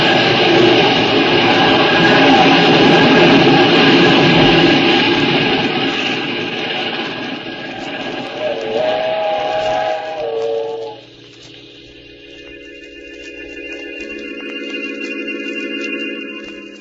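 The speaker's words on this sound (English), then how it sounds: "When the train had passed" A train passes in a 1947 radio drama episode of Murder at Midnight, a loud rumbling, hissing roar with a steam whistle blast, giving way to quieter sustained tones and music as it moves off.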